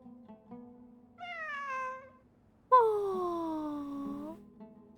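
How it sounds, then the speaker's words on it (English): A cat in a video game gives two drawn-out meows, the second louder and longer with a falling pitch, heard clearly over a quiet background hum. "A cat? I think there was one earlier, too."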